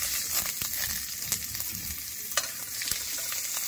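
Whole onions dropped into a hot frying pan, a steady sizzle with scattered sharp pops and stirring clatter, close and without talk.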